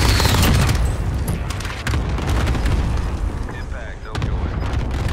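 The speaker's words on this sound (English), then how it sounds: "That was my airstrike." Airstrike explosions in Call of Duty: Warzone land as loud, heavy booms followed by a rumbling roar, with other blasts in the distance and a voice speaking over them.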